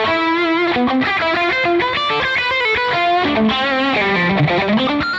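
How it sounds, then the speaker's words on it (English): Overdriven electric guitar through an Exotic Effects BB preamp pedal into a captured Matchless amp, a busy run of bent lead notes and chord stabs, continuous, loud and close. "So I've plugged my Exotic Effects BB preamp in."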